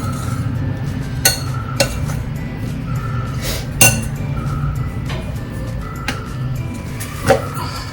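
A spoon clinks and taps against a dish at irregular intervals while a sweet jaggery mixture flavoured with nutmeg is stirred, with a low background hum under the sharp metallic knocks.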